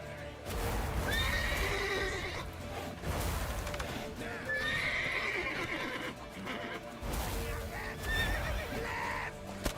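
Loud horse neighs and whinnies repeat over a busy scene in The Witcher 3: Wild Hunt, with hooves clattering and indistinct voices in the background.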